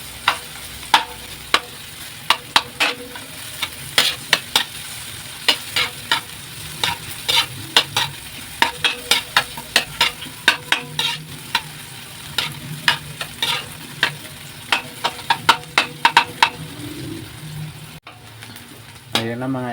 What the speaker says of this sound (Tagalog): hayaan natin ng ilang minuto para maluto ang ating bawang at sibuyas